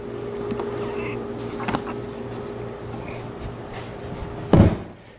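A heavy wooden shop-made file cabinet is wrestled over onto its other side, with scattered knocks and shuffling, a faint hum underneath, ending in a loud, near thud as it lands.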